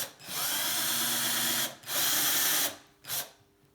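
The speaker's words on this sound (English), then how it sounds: "You want to absolutely have a sharp drill bit when you do that." Power drill boring holes in a vintage Atala steel bike frame, three bursts of loud high whirring, two long and one short, separated by brief pauses, close up.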